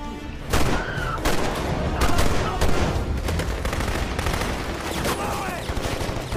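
Rapid bursts of film gunfire crackle and boom in a dense exchange of shots, with a faint voice briefly underneath.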